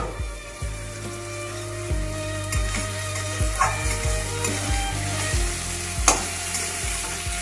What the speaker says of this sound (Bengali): বেগুনটাও ভাজা হয়ে গিয়েছে, পেঁয়াজ টমেটো সবই একসাথে ভাজা হয়ে নরম হয়ে গিয়েছে